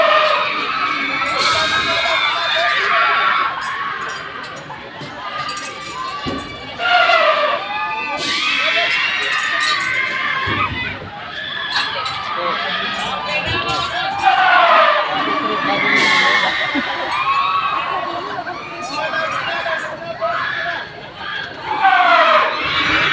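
A crowd of children shouts, cheers and whoops continuously at an amusement park in Tagaytay, with loud swelling cries and overlapping chatter throughout.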